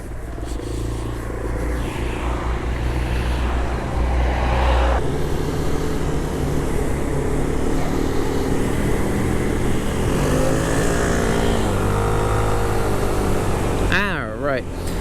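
Royal Alloy GP300s scooter riding at a steady cruise, continuous engine and wind noise throughout, with someone talking over it and a brief warbling tone near the end.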